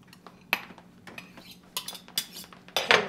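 A spoon held in a bowl of runny mixture, with scattered light clinks and scrapes of metal against the dish, close and fairly quiet.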